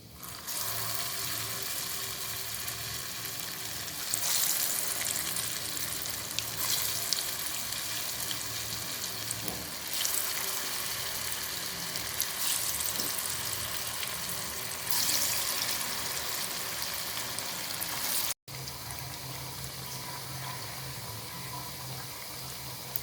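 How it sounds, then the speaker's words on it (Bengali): Green banana kebabs deep fry in hot oil, a steady close hiss and crackle of bubbling fat running continuously with a few louder surges, no speech over it. "একইভাবে আমি বাকি কাবাবগুলো ভেজে নিচ্ছি"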